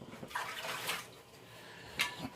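Water pours into a Stanley Adventure Stay Hot 3-quart camp crock with a steady, soft splashing wash and a couple of brief louder gushes, with no talk.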